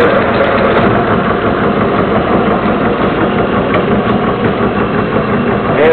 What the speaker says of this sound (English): I start the motor, and I plug this in to sort of like jump start it or something.